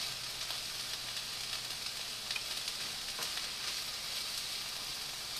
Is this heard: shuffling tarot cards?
no